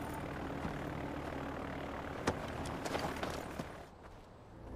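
Plane in Far Cry 4 about to take off, its engine droning as a steady propeller hum with a few sharp clanks on top, easing off near the end.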